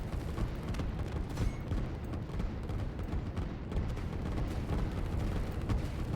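Artillery fire in a strategy video game battle, heard as a dense, continuous low rumble of booms and crackling impacts at steady loudness, with no voices over it.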